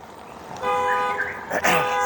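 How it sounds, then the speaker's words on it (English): A car alarm sounds on a sunny downtown street in Latin America, a steady electronic tone with stacked harmonics swelling in after a brief pause and continuing over street noise and a nearby voice. "So, here we got car alarm."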